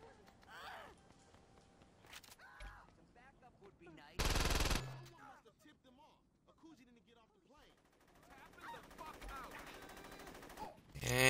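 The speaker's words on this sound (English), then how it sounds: "And he's shooting random passengers." Gunfire in the Saints Row 2 video game, bursts of shots amid game sounds, with a loud blast near the middle and people talking over parts of it.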